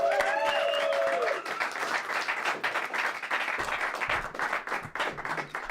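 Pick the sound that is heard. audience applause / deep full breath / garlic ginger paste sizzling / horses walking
audience applause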